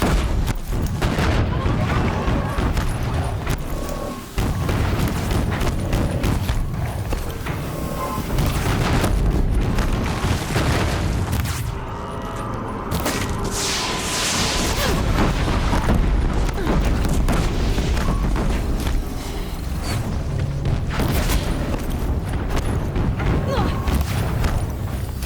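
Heavy combat in Horizon Zero Dawn as an enemy shoots its own men: dense, repeated booms and bursts of gunfire fill the scene almost nonstop, with a voice talking over the din.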